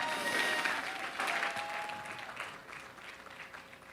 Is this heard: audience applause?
yes